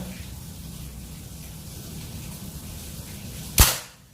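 A single sharp, snappy shot from a PCP mini air pistol (L-38, 2500 psi) fires near the end, a quick crack over steady outdoor background noise, with no talking.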